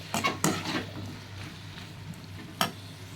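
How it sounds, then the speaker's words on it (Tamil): Brinjal, tomato and onion are sautéed in a pan, a soft sizzle under a few sharp scraping stirs of a spatula at the start and again near the end. "தக்காளி வெங்காயம் கொஞ்சம் வதங்கின பிறகு நம்ம கத்திரிக்காயும் இதில் இறக்கிட்டோங்க. இறக்கிட்டு அதையும் நல்லா வதக்கிக்கலாம்."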